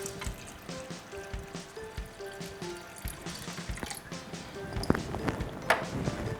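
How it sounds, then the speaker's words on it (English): Nearly half a cup of water is poured into a pot of rajma curry, a soft trickling splash with a few louder drips near the end, faint against light kitchen background noise. "we'll add like nearly a half a cup of water"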